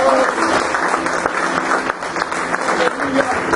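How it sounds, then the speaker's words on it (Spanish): A church congregation applauds during a Spanish-language sermon on Nehemiah, a dense, sustained wash of clapping lasting several seconds with voices mixed in underneath. "Denle un aplauso a esa palabra."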